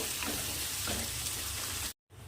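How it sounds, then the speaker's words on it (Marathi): Chopped onion frying in a pan gives a steady, moderately loud sizzle and crackle, with faint stirring scrapes over the hiss, before it cuts off abruptly near the end. "कांदा पण ॲड करू आपण याला परतून घेऊ कांद्याला"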